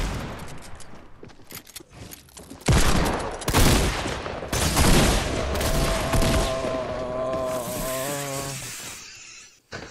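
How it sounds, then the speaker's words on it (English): A gun in a console shooter fires repeatedly and on its own, sustained loud bursts of rapid gunfire that swell and fade over several seconds, close and dense, then cut off abruptly. "my gun keeps shooting"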